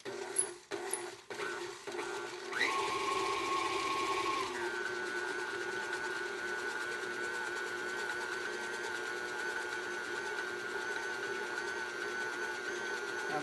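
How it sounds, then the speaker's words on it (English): An electric mixer beats cream cheese and sugar, a steady close mechanical whir that shifts pitch as it speeds up, then holds a constant hum. "I'm going to take that cream cheese, I'm going to add the sugar. I'm going to lock my mixer."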